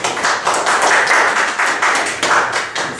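Applause at a legal conference welcoming a speaker, heard as uneven bursts of clapping that swell and dip in waves, fairly close and with no talking over it.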